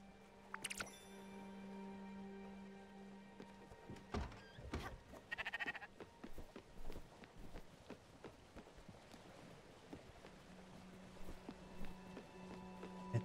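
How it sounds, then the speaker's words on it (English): Sheep bleating in the video game Spiritfarer, a few drawn-out bleats early on mixed with light footsteps and scattered game sound effects, fairly faint, with no talk over them. "I watched the sheep bulk up there right before my eyes."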